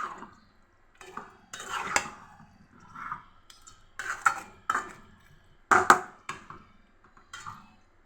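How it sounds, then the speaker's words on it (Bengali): Chicken and mung dal with spices being stirred in a pot, giving a series of short scraping and clattering bursts of a utensil against the metal pan, spaced irregularly, close and without talk. "মাংসটা নেড়ে দিচ্ছি।"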